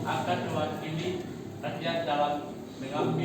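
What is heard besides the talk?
No everyday noises stand out.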